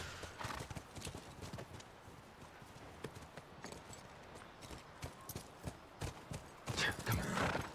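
Hooves clip-clop in a quick, uneven rhythm as a horse moves along, with a louder burst of movement near the end.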